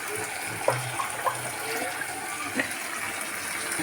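Water pours from a vessel into a pan of half-cooked fish chorchori after the oil and spices have been fried, a soft steady gush with a few splashes, fairly faint in a kitchen.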